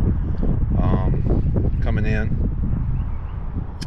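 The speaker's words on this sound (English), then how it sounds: "And excuse the wind, it's a little bit windy today." Gusty wind buffets the microphone outdoors in a low, continuous rumble while someone speaks over it.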